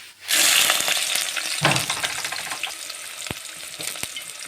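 Chopped onion hits hot oil in a pot with a sudden loud sizzle that settles into steady frying, with a few stirring clatters and scrapes along the way; no voices.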